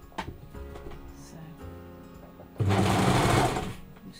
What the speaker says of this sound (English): Stretching and sewing at the same time.